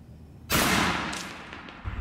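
A single sharp, loud blast from a Serpent Arms 550L 28-gauge PCP air shotgun firing 3/4 ounce of number 6 tungsten shot, up close, with a quick decaying tail and faint clatter afterward.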